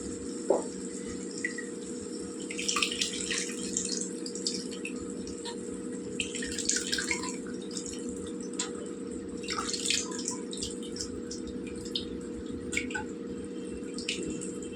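Tamarind juice pours into a pot of biryani khatta, a steady liquid trickle with scattered splashy drips running alone throughout over a constant low background hum.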